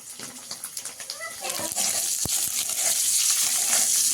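Gentle sizzling of a duck egg frying in oil, mixed with stirring clicks and scraping in a home kitchen, the hiss building steadily louder with no speech heard.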